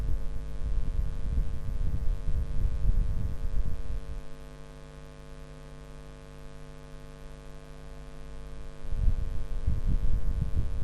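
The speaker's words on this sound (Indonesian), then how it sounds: "Kipas angin sudah terpasang." An electric fan plugged into a power monitoring device runs with a steady low electrical hum and a throbbing motor drone, louder at the start and end with a quieter stretch in the middle; no speech.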